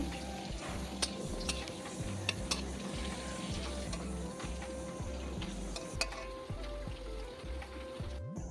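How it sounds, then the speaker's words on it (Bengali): Papad frying in hot oil gives a steady, soft sizzle under a constant low hum, with faint periodic ticks and occasional light clatter, no voices. "সবগুলো পাঁপড় এইভাবে ভেজে নিচ্ছি।"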